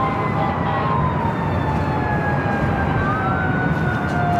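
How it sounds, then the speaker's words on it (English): Fire truck sirens wail from outside fire stations responding to an airport alert at Los Angeles International Airport, several overlapping tones rising and falling continuously under heavy background rumble. "you're hearing all the sirens from the fire trucks reporting to this alert 2 from the outside fire stations"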